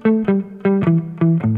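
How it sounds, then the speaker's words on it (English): Electric guitar playing a basic 12-bar blues shuffle pattern, a close, mildly overdriven chugging riff of evenly spaced two-note stabs repeating in a steady rhythm, heard alone. "So the basic pattern sounds like this."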